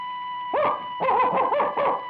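A person's voice imitates a dog barking, giving four or five yapping barks in quick succession, close and fairly loud, over a steady background hum.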